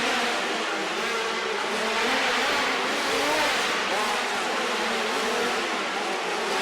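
Dirt track race cars at an Xtreme Outlaws event roaring after the green flag, a dense continuous engine drone that stays loud throughout with no break.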